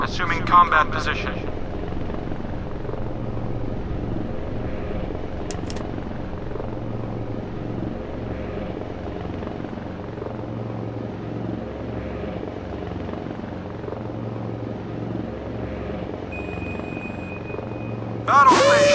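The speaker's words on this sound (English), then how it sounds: "Helicopter taking off" A helicopter lifts off from a warship in the Modern Warship naval combat game, its steady rotor thrum and engine drone running loud and continuous, with brief game alert tones at the start and end.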